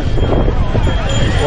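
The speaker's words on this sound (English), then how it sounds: "Very windy." Strong wind at Kanyakumari, India, rumbles and buffets against the microphone, a dense, continuous roar that lasts the whole moment.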